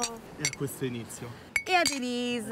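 Glasses clink together for a toast at a party on an Italian beach-house reality show, one sharp ringing chime arriving mid-conversation while people talk over and around it.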